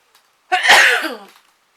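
A single sharp sneeze bursts out close by, then trails off into silence.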